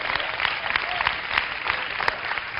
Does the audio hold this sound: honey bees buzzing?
no